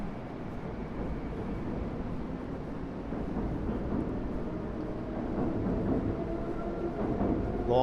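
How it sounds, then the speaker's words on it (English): A Long Island Rail Road train at New York's Penn Station, a low, steady rumble of the train and station ambience heard from nearby, slowly building in loudness. "This is Long Island Railroad."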